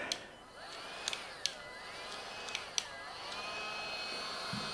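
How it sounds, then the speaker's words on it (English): Heat gun running steadily during electrical work on a Ford 351 Cleveland turbo engine build, a soft continuous airy blowing hum with a few sharp faint clicks and taps mixed in. "I'll get the heat gun now"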